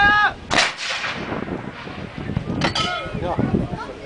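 A 25-pounder field gun fires at a demonstration in Bosberg, Galmaarden, with a loud close blast rolling into a long rumble. Shouted firing commands are heard before and after.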